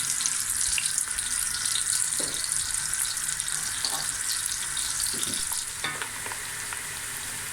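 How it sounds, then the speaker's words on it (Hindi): Onions for a chicken curry, with tomatoes added, fry in a pan with a steady close sizzle and hiss, broken by occasional stirring scrapes and clinks. No one speaks. "अब ये प्याज फ्राई होना शुरू हो गया है।"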